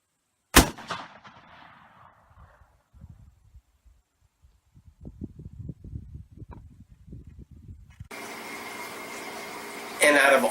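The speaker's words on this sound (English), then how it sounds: "And then finally I got to shoot a 50 caliber muzzle loader." A single sharp, loud boom from a .50 caliber muzzleloader rifle fired outdoors on a deer hunt, followed by a fading rumble and quieter shuffling, with a burst of wind or engine-like noise near the end.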